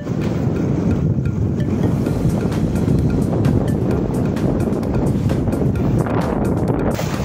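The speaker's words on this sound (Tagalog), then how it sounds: "Lakas ng hangin ah." Strong wind at a fishing spot in Zamboanga City buffets the microphone with continuous low roaring gusts, steady and loud throughout, with possible water sounds beneath.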